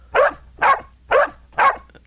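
A dog barks four times in a steady, evenly spaced rhythm, each bark short and fairly loud, close by and alone with no voices over it.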